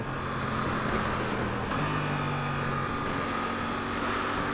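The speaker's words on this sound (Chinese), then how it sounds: "然后现在是比较高档位的快排的换挡。 降档" A Suzuki GSX-8S motorcycle under way as it shifts down with its quickshifter: a loud, steady engine drone with wind noise, and the engine pitch steps at each gear change.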